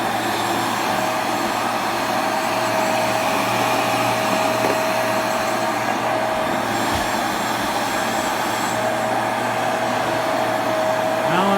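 Bissell TurboClean PowerBrush Pet 2987 carpet cleaner running steadily on wavy carpet, a loud continuous motor whine and airflow roar with a constant tone, pushed forward and back with the spray trigger released.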